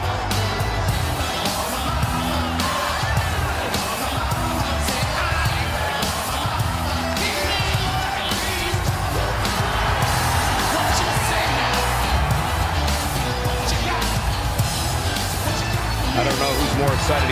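A wrestling arena crowd at a women's match cheers, yells and whoops steadily, a loud sustained roar of many voices with commentators talking over it throughout.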